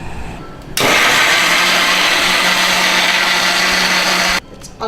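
A mixer grinder whirs loudly and steadily, blending onion into a paste for a chicken gravy; the motor kicks in abruptly, runs at full power for about three and a half seconds, then cuts off.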